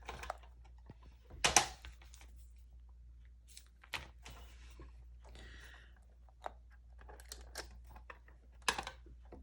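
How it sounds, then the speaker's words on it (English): Quiet, irregular keystrokes on a computer keyboard indoors, scattered taps with a few louder clustered bursts and pauses between words. "Now I've typed up the first few words of the title."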